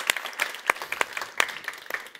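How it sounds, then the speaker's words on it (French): Sparse, scattered clapping from a small group at a tech talk, a handful of distinct hand claps at uneven intervals, moderately close and fairly faint, with no voices. "Alors, applaudissez-les. Applaudissez-vous."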